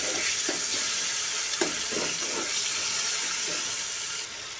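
Chopped tomato and a little sugar stirred and frying in oil in a wok, a steady close sizzle with a few soft scraping strokes of the spoon, no talk.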